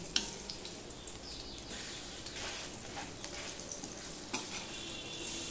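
Ash gourd frying in a hot wok just after being flipped, with a dense steady sizzle and crackle, close and continuous, plus an occasional soft scrape of the spatula.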